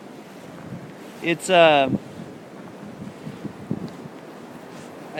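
Gusty wind roars steadily across open ground during a blizzard, with drifting snow blown about; a short voice rises briefly partway through over the constant wind noise.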